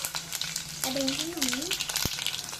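Cumin, mustard seeds and garlic crackle and sizzle steadily in hot oil throughout, with a voice briefly sounding a wavering tone partway through.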